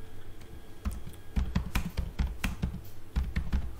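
Typing on a computer keyboard during a CSS coding session, a steady run of close, crisp keystrokes with brief pauses and uneven bursts, no voices.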